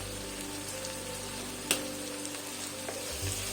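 Breadfruit masala curry cooks in a pan, giving a steady soft sizzle with one sharp clink of a spoon partway through and faint scraping strokes, no voices.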